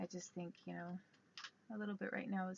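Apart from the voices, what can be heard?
None of the usual background noises is heard.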